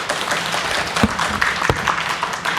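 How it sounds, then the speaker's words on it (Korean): Audience applause at a Korean lecture forum on filial piety and sijo poetry, a sustained crackle of many hands clapping in a hall, with a few sharper individual claps standing out, no speech over it. "박수를 이렇게 많이 쳐주셔서 정말 경의를 표합니다"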